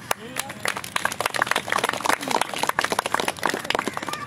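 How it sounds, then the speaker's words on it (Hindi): An audience claps together for Minhaj at a study circle in Islamabad, a dense and steady burst of hand claps lasting several seconds, fairly close. "मिनहाज के लिए हम ताली बजाएंगे"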